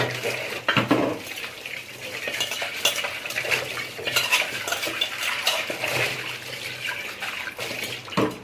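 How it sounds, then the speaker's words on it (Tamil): Dishes and steel utensils being scrubbed and rinsed in a home kitchen sink, with steady clinks and scraping of metal against metal over running water, close and continuous without talk. "சாமான்லாம் தேய்ச்சி முடிச்சாச்சு."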